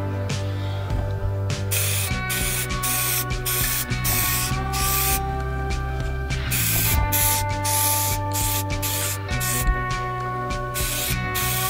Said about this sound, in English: Now I'm spray painting with one hand and holding the camera with the other